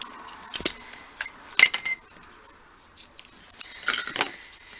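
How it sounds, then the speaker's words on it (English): Scissors snip through a length of pink ribbon in a few sharp, close cuts with short pauses between them; no one talks. "I've got some lovely pink ribbon here. I'm just going to cut a piece off."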